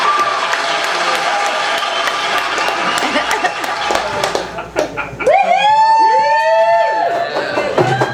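Loud applause from an open-mic audience, dense clapping that thins into whistles and cheers toward the end.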